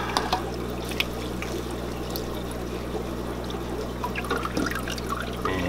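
Water being poured into a hang-on-back aquarium filter to prime it before first start-up, a steady close pouring and trickling over a constant low hum throughout.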